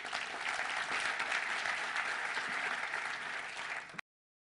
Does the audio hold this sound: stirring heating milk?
no